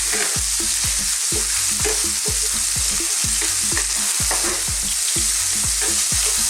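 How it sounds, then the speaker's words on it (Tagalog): Pork frying in a pan for Filipino igado sizzles loudly and steadily, with a regular rhythm of scraping stirs and no talking. "lulutuin lang natin yung pork na mga ilang minuto"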